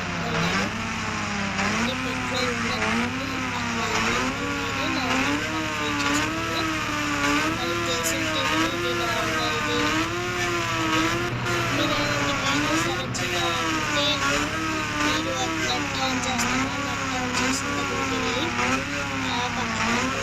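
A vehicle engine drones continuously while riding after a petrol fill-up, a loud sustained rumble whose pitch rises and falls in waves as the throttle changes, with faint voice beneath.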